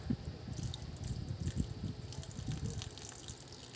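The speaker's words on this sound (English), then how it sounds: "Next is I'll be adding a little bit of water around it" Water pours and splashes steadily for a few seconds into a small shrimp and fish tank around soil and rocks, a soft continuous trickle with small drips, close by and fairly quiet.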